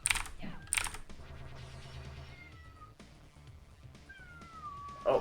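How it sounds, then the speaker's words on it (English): A cat meows loudly twice near the start and again at the end, rising and falling cries over steady computer keyboard typing and background game sounds. "Oh, I hear a cat, Victor."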